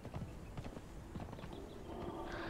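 Horse hooves clip-clop at a walking pace in the Conan Exiles video game, a steady run of soft, fairly close steps over a constant background bed.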